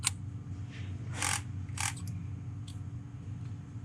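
Bolt assembly being unscrewed from a Dye Rize Maxxed paintball marker, giving a few brief metallic clicks and soft scrapes over a low steady hum, close and quiet, with no talking.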